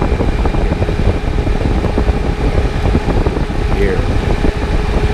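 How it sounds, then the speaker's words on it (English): Auxiliary electric cooling fans running on a Crown Victoria, a steady close whooshing hum with a low rumble beneath, constant throughout. "These are quiet little fans, and they're out of the way."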